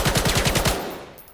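SMG fire in the VR shooter Weapons of Vail, a rapid burst of about eight evenly spaced shots at close range, loud and punchy, then a short fading tail as firing stops.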